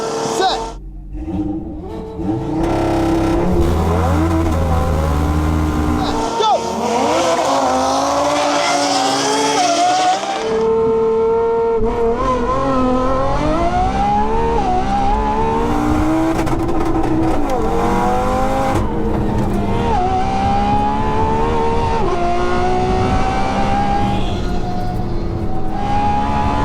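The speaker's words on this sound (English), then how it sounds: "it's time for the drag races, and things are about to get crazy" A tuned Audi TT RS and a 1001 bhp Lamborghini Revuelto launch in a drag race, engines revving hard through rising, shifting gears with loud roaring acceleration, while people talk over the sustained engine noise.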